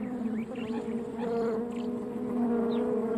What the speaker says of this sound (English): An astonishing insect called Diadasia rinconus